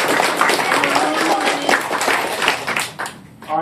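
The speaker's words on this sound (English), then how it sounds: "And a round of applause for the coaches." Steady, dense applause from a crowd at a sports speed camp, broad and continuous clapping that thins briefly near the end before swelling again.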